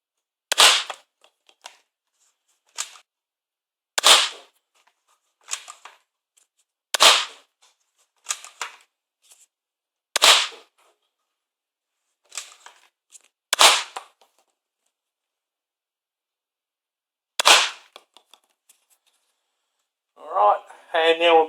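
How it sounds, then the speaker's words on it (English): Nerf Star Lord Quad Blaster with modded barrels firing shots through the top of its bottom two barrels: about ten sharp, snappy pops spaced irregularly a second or two apart, loud and close, with a brief burst of talk at the very end. "So this is shots through the top of the bottom two barrels."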